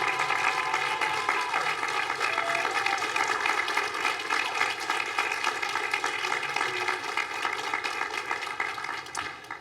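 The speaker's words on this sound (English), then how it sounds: "I want you all to stand up and give your family, your friends, all your guests here a round of applause for all they've done to help you succeed" A graduation crowd of families and guests applauds at the Emory University commencement ceremony, a dense, continuous wash of clapping that stays loud throughout.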